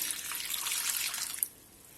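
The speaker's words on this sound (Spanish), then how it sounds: "vamos a ponerle una taza, 250 mililitros de vino blanco" White wine pours in a steady stream into a dough mixture, a soft liquid splash that runs for about a second and a half and then stops.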